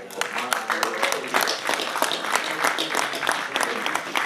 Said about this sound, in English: Anthony Joshua here deserves a round of applause after that